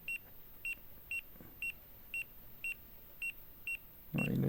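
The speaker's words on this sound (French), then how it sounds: "le principe c'est qu'il sonne quand il y a un champ électromagnétique ou une baisse de température" EMF detector at Château Rocher chirping in a steady series of about nine short, high, evenly spaced beeps in a quiet room, followed by a sudden burst of rustling noise at the end.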